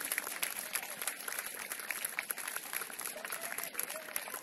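Audience applause greets football players from CSKA and Spartak Varna being introduced, a dense, continuous patter of many hands heard from a distance and faint, with crowd murmur mixed in.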